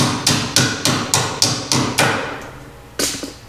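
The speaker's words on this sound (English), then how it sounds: "Use my hammer pliers here." Hammer pliers strike parts being removed from an old 494A piece of equipment, giving about eight sharp metallic blows in steady rhythm with ringing decay, then a pause and one last hit, close and loud.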